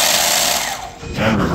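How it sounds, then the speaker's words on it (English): Electric drive motor of a German Type VII RC model submarine running forward at low throttle, a close, smooth mechanical whir that dips briefly midway and then picks back up. "the throttle, we've got forward, nice and smooth, even at low RPM."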